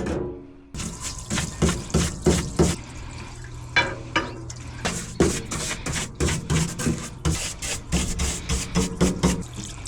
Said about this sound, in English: So let's head out to the parts washer.